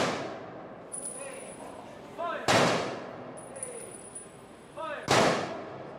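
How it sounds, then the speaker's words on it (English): Volleys of a 21-rifle salute at a military honors ceremony for World War II veterans, two sharp loud cracks about three seconds apart with echoing decay over an outdoor ambience. "A 21 rifle salute was observed."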